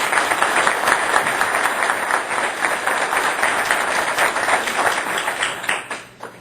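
Audience applause at an environmental health leadership summit, a dense, steady clapping from a large crowd that holds for about six seconds before tapering off at the end.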